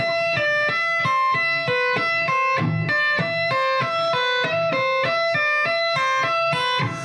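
Fast two-hand tapped electric guitar lick in neoclassical style, a continuous stream of bright notes that keeps returning to an E pedal tone, rapid and even with sustained tone throughout.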